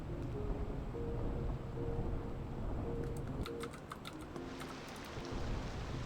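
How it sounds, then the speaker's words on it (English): Steady rain falls in the city-building game Cities: Skylines II, a dense hiss of drops that continues throughout, with soft lo-fi music tones underneath and no talking. "I think listening to the lo-fi station makes it rain in game."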